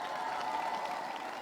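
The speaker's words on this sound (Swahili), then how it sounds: "Mbona basi hamnipigii makofi?" An audience at a school's 20th anniversary celebration claps together in a steady, dense patter, moderately loud and continuous, with faint voices mixed in.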